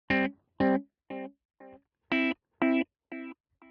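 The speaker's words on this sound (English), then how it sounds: "I have a very big transistor tape delay here." Eight separate electric guitar notes through a transistor tape delay effect on a Line 6 Helix, a distorted, effected tone, played at an even pace with short gaps between them.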